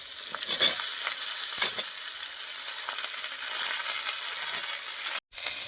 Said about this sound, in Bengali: শিম আর বেগুন কিছুক্ষণ ভাজার পর আলুগুলো দিয়ে দেবো।